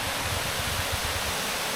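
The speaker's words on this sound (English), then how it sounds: "And there's the other waterfall." A smaller waterfall beside a hiking trail gives off a steady, even rush of falling water, heard alone with no voices at a moderate distance.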